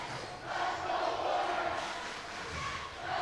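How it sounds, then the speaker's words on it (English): A crowd at a high school basketball game involving Granite City cheers and murmurs steadily at moderate distance, a broad wash of voices swelling and easing over a few seconds. "Now the crowd's getting into it. They like it when their team's leading."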